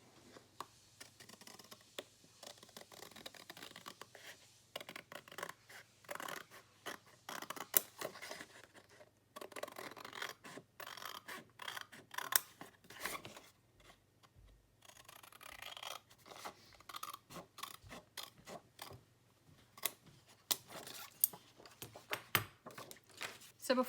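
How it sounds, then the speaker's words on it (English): Scissors cut out paper for a handmade accordion folio, with quiet close snips and rasping strokes that come in irregular bursts separated by brief pauses. "And so then I'm just going to cut it out."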